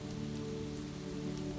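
Light rain drizzles over a Scottish castle courtyard, a soft, steady patter of fine drops that stays faint and even throughout, with a low, constant hum beneath it and no voices.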